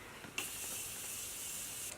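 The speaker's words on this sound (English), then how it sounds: "I'm just going to take the Morphe setting spray and just spray my" A single sustained hiss of Morphe setting spray misted onto a face, close and steady for about a second and a half after a short click, alone without talk.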